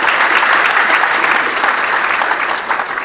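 An audience at an official public address in Côte d'Ivoire breaks into loud, sustained applause, dense clapping filling the whole stretch without pause.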